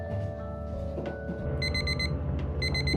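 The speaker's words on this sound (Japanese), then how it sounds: "あ、目覚ましが鳴ってる。" An alarm clock beeps in quick repeated bursts, two clusters of rapid electronic tones over a low steady rumble of a moving JNR-type diesel railcar train.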